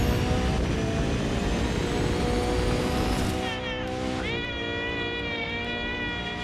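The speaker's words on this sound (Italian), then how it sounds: "il clacson del gatto su questa macchina" A cat-meow car horn on a sports car in The Crew 2 racing game, a long wavering meow-like honk sounding loudly over the roaring engine and wind noise, then a second shorter meow honk.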